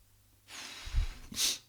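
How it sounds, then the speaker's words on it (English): A quick nasal sniff inhale taken while circular breathing on a didgeridoo, following a soft airy blowing tone; close and fairly quiet. "getting the blowing out first and then getting the sniff, which you can hear on the didgeridoo there"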